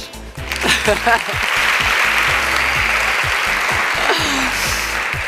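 Studio audience at a Turkish televised dance competition bursts into steady, loud applause with scattered cheers, while a host's voice and rhythmic music thump underneath throughout.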